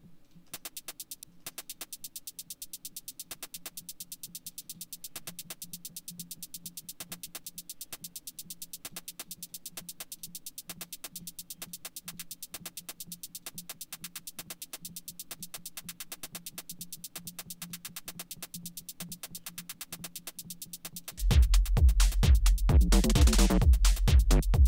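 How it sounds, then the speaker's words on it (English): Two looping white noise tracks run through a high pass filter in electronic music production, a thin, hissing texture pulsing in rapid repeated bursts that swells abruptly louder and fuller near the end. "now we've got these two white noise loops"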